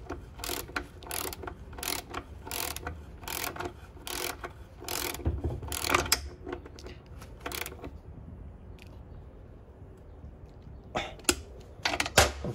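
Ratchet wrench clicking rapidly in short bursts while tightening a bolt on a Honda Civic transmission during an input shaft bearing job, then a quiet pause before a few final clicks close by.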